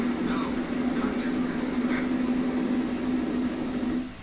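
A helicopter flies over the forest in the Resident Evil game, a steady whining engine drone with a constant low hum, close and loud before fading slightly at the end, with speech partly over it.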